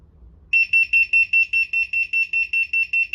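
A loud, high-pitched 90 dB electronic alarm from a TOWODE WiFi water leak detector starts after a brief quiet moment, beeping in rapid, evenly spaced pulses that continue steadily to the end.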